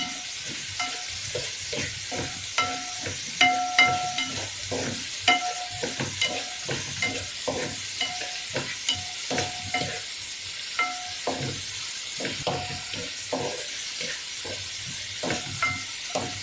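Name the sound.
sautéing fenugreek leaves with potatoes in a pan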